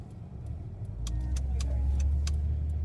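A car passes by on an outdoor road near a park, its engine swelling from faint to a steady nearby rumble, with small clicks and rattles on top.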